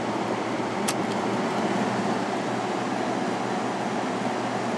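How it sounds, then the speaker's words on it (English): A steady, broadband whooshing hum of a 6300 BTU Emerson Quiet Kool window air conditioner fan on medium speed runs continuously at moderate level, with a slight bearing noise and a brief faint click near the start. "Now on medium speed there is a slight bearing noise"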